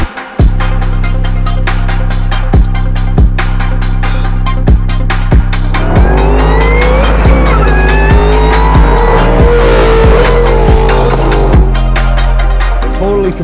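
A $1.2 million 785 hp Ford Mustang Fastback revs loudly with sharp repeated throttle blips, then breaks into a long, screeching burnout as the tires squeal for several seconds before the engine settles back.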